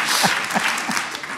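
Steady audience applause at a talk show, a dense wash of many hands clapping at close range, sustained throughout without any voices.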